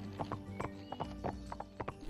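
Horse hooves clip-clopping across ice in the Barbie Wild Horse Rescue video game, a steady walking rhythm of close, distinct footfalls with a brief whinny-like tone at the end.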